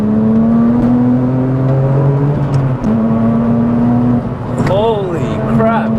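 A Porsche GT2 pulls hard with a strong, rising engine whine that holds steady, then shifts and climbs again as it keeps accelerating, loud and close throughout.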